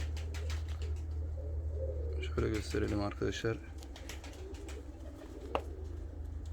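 Young, pure white Filibe show pigeons with white crests, a high-flying breed, coo softly and repeatedly under steady low background noise, while someone talks over them partway through.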